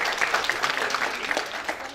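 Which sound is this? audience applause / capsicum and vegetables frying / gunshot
audience applause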